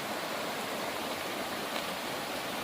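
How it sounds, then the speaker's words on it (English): Steady, dense rushing of the Apalachee River flowing near an old mill dam site by a covered bridge, a constant broadband roar with no pauses or voices. "This is the Apalachee River."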